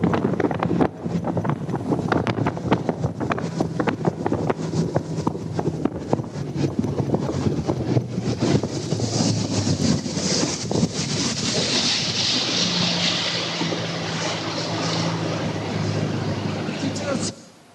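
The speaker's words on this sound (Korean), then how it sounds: "그 보트로 질주를 하는데" A motorboat speeds along the Yalu River, giving a loud, continuous rush of wind buffeting the microphone, with engine drone and splashing water that stay steady throughout before cutting off abruptly at the end.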